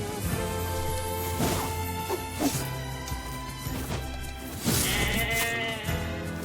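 Sheep bleat over a dense layer of game music and effects in the video game NieR Replicant, with several bleats rising above the mix and a few sharp impact hits in between.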